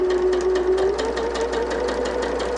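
A sewing machine stitches quilt fabric for a barn star sampler block, keeping up a steady, fast, even whir with a rapid pulsing needle rhythm from close by and no talk.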